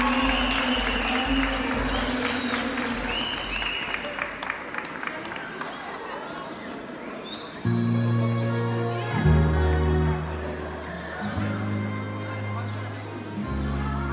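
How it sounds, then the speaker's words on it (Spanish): Audience applause at a secondary school closing ceremony, a steady crowd clapping that continues under an announcer's voice and later blends with music and chatter. "Que se escuchen esos aplausos."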